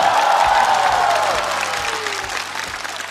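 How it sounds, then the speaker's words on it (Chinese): A studio audience at a Chinese stand-up roast show applauds to thank sponsors and clients, sustained dense clapping with some crowd noise, slowly tapering over a few seconds. "再次让我们用热烈的掌声感谢一直陪伴我们的客户们"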